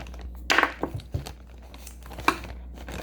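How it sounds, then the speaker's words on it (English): Kinetic sand packaging torn open by hand, with a few sharp crinkling rips and plastic rustles, separated by quieter handling noises and light thunks, close up. "I'm just gonna rip everything."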